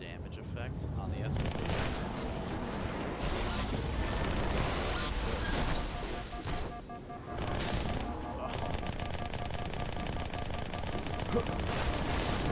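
SMG gunfire rattles in the video game Halo, dense rapid bursts of automatic shots with a short pause midway, loud and close, while a player talks over the gameplay.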